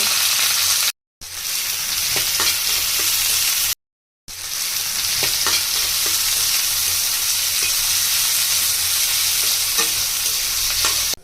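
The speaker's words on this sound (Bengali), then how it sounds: "চুলায় কড়াই বসিয়ে দিয়েছি এখন দিয়ে দিব পরিমাণ মতো তেল চার থেকে পাঁচটা পেঁয়াজ কুচি দিয়ে দিব" Chopped onions fry in oil in a wok, a loud, dense sizzle broken by two short silences, with stirring scrapes and small crackles throughout and no speech.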